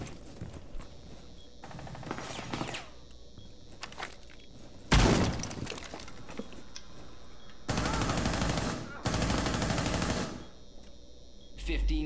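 Gunfire in the video game Rainbow Six Siege, with bursts of automatic fire in several clusters of rapid shots, loud and close, and a sharp single blast midway, under occasional voice chat.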